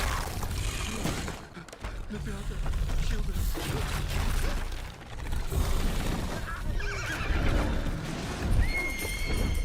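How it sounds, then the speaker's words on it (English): Horse whinnies and clip-clopping hooves from Red Dead Redemption 2 horse sounds in a video game, with repeated loud neighs over continuous movement and game noise. "they took the horse sounds from RDR2"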